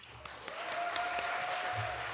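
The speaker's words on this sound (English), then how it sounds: "Please give a record-breaking round of applause for Your Best Nightmare." Audience applause in a Halloween-themed radio musical drama, greeting a band introduced on stage: a steady, moderately loud wash of clapping that holds throughout, with a faint sustained tone running beneath it.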